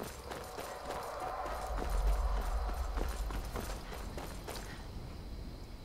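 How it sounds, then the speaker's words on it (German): Horse hooves galloping in the Skyrim video game, a steady run of clip-clop beats at moderate distance over a low rumbling game backdrop, without talk. "Mein Pferd rennt irgendwo draußen rum"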